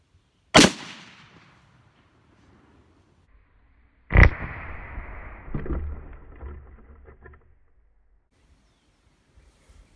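A .243 rifle fires twice outdoors, each shot a sharp, loud crack; the second is followed by a long, rolling echo that fades over several seconds, with no talking.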